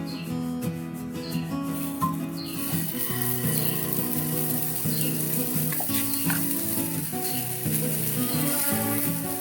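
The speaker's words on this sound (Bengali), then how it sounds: "তেলটা একটু গরম করে নিই। প্রথমে একটু হাই হিটে দিয়ে নিই" Cooking oil heating on high flame in a pan for a healthy oats and semolina breakfast, giving a steady, close crackling sizzle that continues unbroken throughout.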